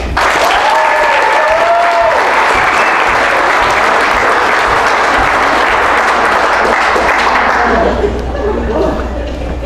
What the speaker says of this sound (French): Par applaudissement, s'il vous plaît